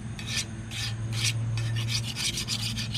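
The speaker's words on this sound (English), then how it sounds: "I like to give the blades a quick scrape." Buildup is scraped off lawn mower blades with a series of rhythmic rasping strokes, each a short gritty scrape, repeated about nine times close up over a steady low hum.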